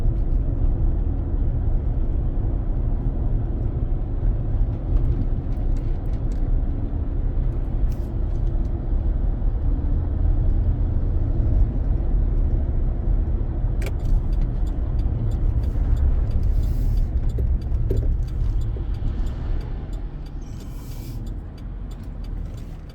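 A car driving at about 25 mph on a road in the Malibu fire area, a steady low engine and tyre rumble filling the cabin with a few faint clicks and bumps, easing slightly toward the end.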